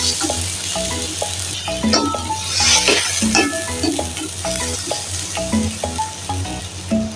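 Rinse water from a mortar used to pound garlic, coriander root and pepper is poured into a hot pan of fried shallots for a rice soup with dory fish and shiitake. It makes a steady, loud sizzle broken by scraping and clinks of stirring.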